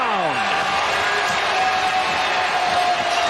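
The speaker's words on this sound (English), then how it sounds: "You hear that crowd roaring for Tanner McKee?" Stadium crowd at an Eagles–Cowboys NFL game roaring after a Tanner McKee touchdown pass to A.J. Brown, a loud, sustained wash of cheering that fills the whole clip beneath a commentator's voice.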